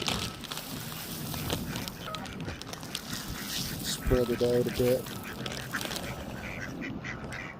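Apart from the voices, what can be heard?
ducks quacking and geese on the river during feeding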